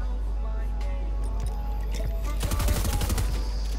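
Pump shotgun blasts from a Fortnite Solo Cash Cup match, a cluster of rapid loud gunfire bursts in the latter half over steady game background noise.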